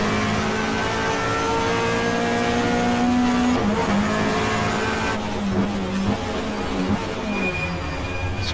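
A 1994 Australian Manufacturers Championship touring car in the GTR2 racing game roars through a hairpin at Mallala, its engine droning loud and continuous, pitch shifting with gear changes and throttle, tires faintly scrubbing.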